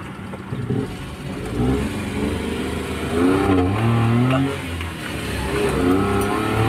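Engine of a Suzuki DA63 with a stumbling, jerking fault and a lit check-engine light, idling steadily and rising in a few moderate revs, heard close with a continuous low hum and no speech.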